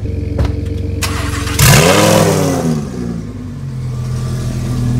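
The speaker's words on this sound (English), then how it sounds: "I don't rev it. The car does that when it just starts." A Lamborghini engine catches and flares into a loud rev on its own at startup, the pitch sweeping up then settling into a steady, elevated idle, close and alone.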